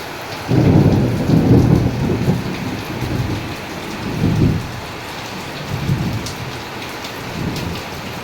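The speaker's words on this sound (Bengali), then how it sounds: "আকাশ ডাকছে, বিদ্যুৎ চমকাচ্ছে পুরো। আমাদের ওই বাইরের ওইখানটা পুরো বৃষ্টি জমে গেছে পুরো।" Heavy rain pours steadily through a thunderstorm, with deep rolls of thunder swelling and fading several times over the downpour; no voices.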